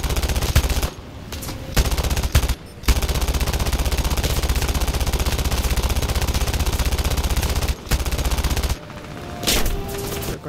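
Sustained aircraft machine-gun fire in the War Thunder flight battle: a dense, loud, rapid rattle that runs almost nonstop, broken by a few short pauses between bursts.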